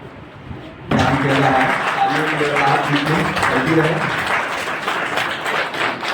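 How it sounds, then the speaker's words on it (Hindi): Applause breaks out suddenly from an audience at a district court farewell ceremony for retiring staff, then stays loud and sustained, clapping densely for several seconds. "सम्मान स्वरूप तालियों की गड़गड़ाहट बीच में करते हैं।"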